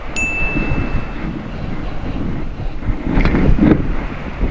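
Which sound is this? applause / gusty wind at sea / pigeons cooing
gusty wind at sea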